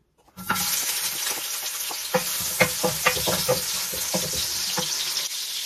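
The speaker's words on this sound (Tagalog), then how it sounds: "At tayo ay maggisa na garlic, ginger, at sibuyas." Chopped garlic, ginger and onion hit hot cooking oil in a pan and sizzle loudly and steadily, close up, with scattered clacks and scrapes of stirring over the constant frying hiss.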